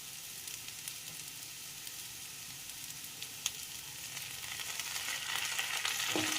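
Soy sauce hissing and sizzling in a hot pan of Maggi noodles with egg, chicken, prawn and garlic, a steady close frying crackle that grows a little louder toward the end, with no talk.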